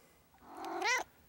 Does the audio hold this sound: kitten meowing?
yes